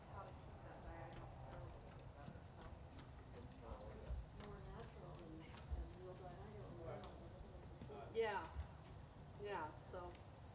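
Horse hooves in a schooling session, front legs walking while hind legs trot, giving soft, steady clip-clop footfalls at middling distance beneath ongoing human speech.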